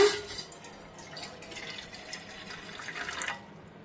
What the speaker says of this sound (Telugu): కళాయి పెట్టుకొని నీళ్ళు పోసుకోండి అమ్మా.